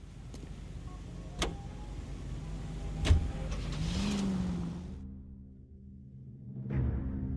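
A car driving in the L.A. Noire video game: a steady mid-pitched engine hum with a few sharp clicks and a brief rise in revs, then a quieter pause before the engine swells again, with no talking.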